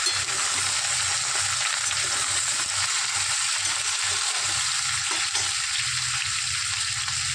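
Beetroot and potato fry in an oiled pan, giving a continuous close hiss and crackle that holds at an even level throughout, with soft stirring underneath.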